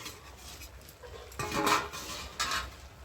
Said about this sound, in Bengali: আমি ঢাকনাটা খুলে দেখতেছি তরকারিটা আমার রেডি হয়ে গেছে।